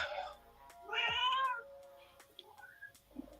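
A cat meows loudly and close by in a few drawn-out, tonal calls, with quieter sounds from a room in between and no one talking.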